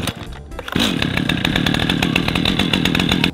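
A Makita battery chainsaw spins up after a brief quiet start, then runs at a loud steady high whine with a rapid chain rattle, close and without talk.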